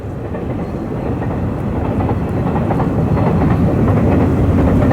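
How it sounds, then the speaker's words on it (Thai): A train rumbles past steadily near the Pa Sak dam, with a dense roar and faint rhythmic clatter of wheels on rails growing slightly louder, no voices. "ฟังทั้ง เสียงรถไฟแล้วครับ"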